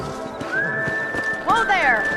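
Horses in a western video game gallop with rapid hoof clops, and one gives a shrill whinny near the end, all heard under game dialogue.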